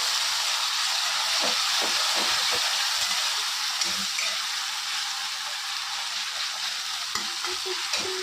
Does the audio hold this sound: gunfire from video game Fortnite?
no